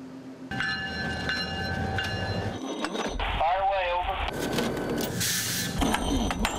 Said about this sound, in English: The rail yard sounds like a sub-zero symphony.